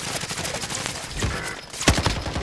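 Gunfire rings out in the video game Call of Duty: Modern Warfare Warzone, a quick volley of loud sharp shots with a heavier burst near the end, all in just over two seconds.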